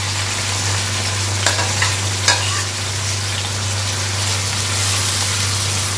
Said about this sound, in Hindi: प्याज को हमने डाल दिया और प्याज को हमने हल्का सा कर लिया फ्राई